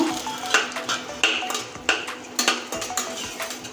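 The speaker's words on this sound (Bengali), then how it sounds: "এখানে আছে কুচানো নারকেল এটা দিয়ে দিচ্ছি তেলের উপরে" Grated coconut fries in hot oil, a low sizzle under repeated sharp scraping and clinking of a utensil against the pan in an uneven rhythm, close and moderately loud.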